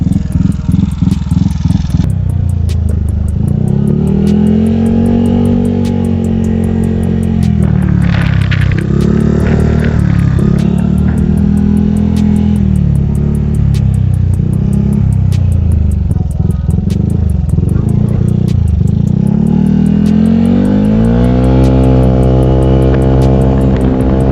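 Modified Honda Vario scooter ridden on a test run, its engine droning loud and steady throughout with rising and falling pitch as it revs and accelerates, wind noise alongside and no talking.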